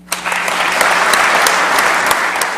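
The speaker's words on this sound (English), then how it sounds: "Applause from lawmakers of both parties" Lawmakers of both parties applaud at Indiana's State of the State address, a sudden burst of many hands that holds as a loud, sustained, roomy clatter with a few sharper individual claps.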